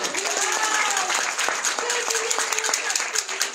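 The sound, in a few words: audience applause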